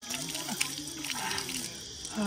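Water runs steadily from a tap as hands and feet are washed near a temple on a hilltop trek, a close continuous splash with voices speaking over it.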